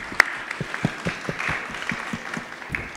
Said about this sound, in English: let's give a round of applause to the people standing